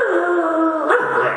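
A human voice imitates a dog with a drawn-out whining, yelping call that slides downward and then changes pitch near the end, loud and close, a single sustained cry.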